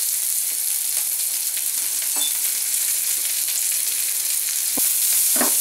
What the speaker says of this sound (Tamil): கொஞ்சம் வெங்காயம் வெந்ததுக்கு அப்புறம் நம்ம இஞ்சியும் பூண்டையும் போட்டு நல்லா வதக்கிக்கலாம்